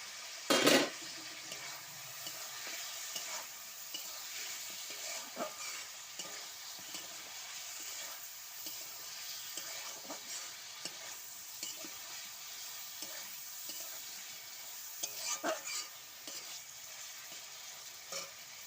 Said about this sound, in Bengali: পেঁয়াজগুলো ভাজা ছিল পেঁয়াজগুলো দিয়ে দিচ্ছি এবারে